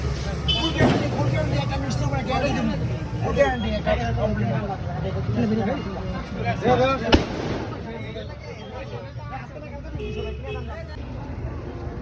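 Diwali firecrackers burst among voices and background noise, with a couple of sharp louder cracks standing out from a steady crowded din.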